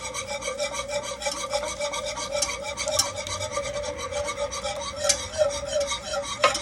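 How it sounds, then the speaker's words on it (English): Whisk scraping and rubbing steadily around a pan as cornstarch is stirred into a simmering sauce for egg foo yong, a continuous close rasping with quick rhythmic strokes and occasional metallic clicks. "I'm gonna turn this down, and then we want to like whisk this in."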